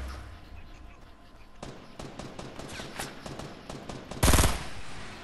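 Gunfire in the Fortnite video game: rapid bursts of shots crackling over a noisy background, ending with a loud dense volley, with a person talking.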